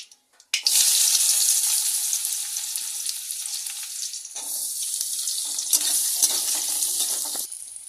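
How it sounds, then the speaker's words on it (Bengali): Onion tipped into a pan of dried red chilies and cumin frying in oil, a sharp burst then loud continuous sizzling and hissing close up, with stirring that shifts the sizzle, no talk. "শুকনো লঙ্কা জিরা ভাজা হয়ে গেছে, ভাজা ভাজা হয়ে গেছে। এবার এতে পেঁয়াজ দিয়ে দেবো।"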